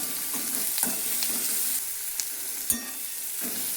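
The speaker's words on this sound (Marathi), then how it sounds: "आता याला हलवून घ्यायचं." Curry leaves fried and stirred in a pan while making samosas, a soft constant sizzle with scattered crackles and a couple of sharp spoon taps, close up and without speech.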